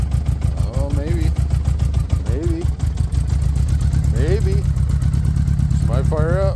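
A 1981 Honda Goldwing motorcycle cranks and sputters during a cold start after six months sitting, the engine chugging in a steady low rhythm while someone talks over it.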